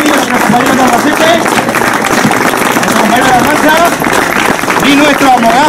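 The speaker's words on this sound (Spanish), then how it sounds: "se merece un aplauso" Loud, steady applause from a congress audience, a dense wash of clapping with crowd murmur and voices woven through it for several seconds.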